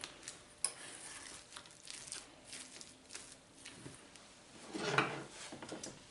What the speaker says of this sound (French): On va venir mélanger donc le tout.